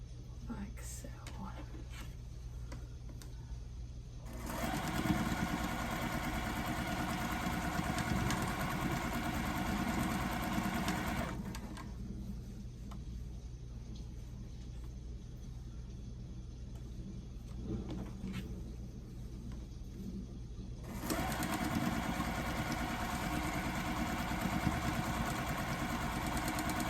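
A sewing machine runs steadily while stitching quilt block pieces, loud continuous motor whir in two long bursts separated by quieter pauses with faint handling sounds.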